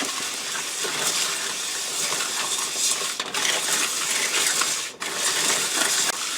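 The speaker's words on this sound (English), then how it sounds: "And I can use the whirly pop to stir it up." Whirley Pop stovetop popcorn maker cranked to stir buttered popcorn, a dense continuous rattling and rustling of kernels against metal, close and loud, with brief dips as the motion pauses.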